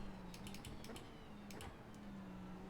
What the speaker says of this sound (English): Sorry about the clicking of the gear paddles as well.